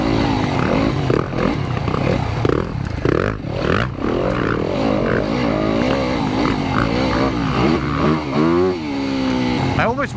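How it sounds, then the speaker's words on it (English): Yamaha YZ250FX dirt bikes ride single-track trail, with a loud, steady engine drone that rises and falls as the throttle shifts, and wind and clatter mixed in throughout. "Maybe you can even hear other bikes."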